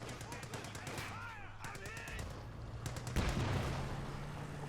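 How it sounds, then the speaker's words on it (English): Rapid sharp gunfire cracks from a Company of Heroes 2 battle, including sniper rifle shots amid bursts of other weapons fire, with a louder impact near the end under constant game din. "Hans opening fire with the sniper"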